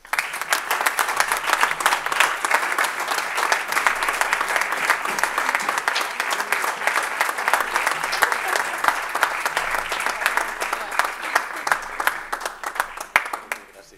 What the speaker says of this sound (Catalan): Manel Ramon, un fort aplaudiment.